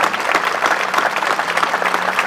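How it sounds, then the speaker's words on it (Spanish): A crowd breaks into loud, sustained applause at a civic event in Ciudad de Arroyito, celebrating a newly presented flag, with many overlapping claps close by. "Claro que sí, aplaudamos."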